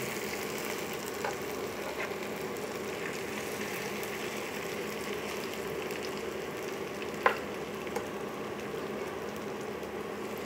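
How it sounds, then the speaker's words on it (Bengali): Lentil and rice fritters with curry leaves and crisp rice flour frying steadily in hot oil, a soft continuous sizzle throughout with a single sharp pop near the end. "এখন আমি ভেজে নিচ্ছি এরকমভাবে।"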